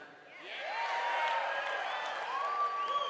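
An audience claps and cheers at an event, with the noise rising after a brief lull and holding as a broad, fairly distant wash of applause punctuated by whoops.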